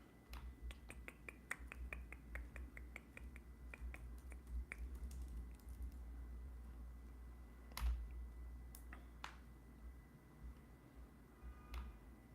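Computer keyboard typing, a run of quick faint key clicks early on that thins into a few scattered taps and one louder clack, quiet and close over a low hum, no talking.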